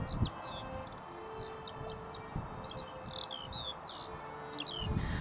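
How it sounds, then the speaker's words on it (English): A skylark sings from above open countryside footpaths, pouring out a long, high, twittering run of chirps over a low rumble of wind and distant background noise. "the skylark, whose distinctive song is the sound of summer for anyone enjoying these footpaths"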